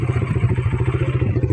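A motorcycle engine putters steadily up close with a rapid, even pulsing beat and a slight clatter, heard alone for a moment.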